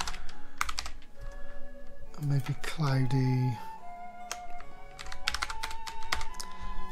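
Rapid clicking of computer keys as someone types into a weather generator on a solo virtual tabletop program, the taps steady and close, with talking and a brief sung or hummed tone mixed in partway through.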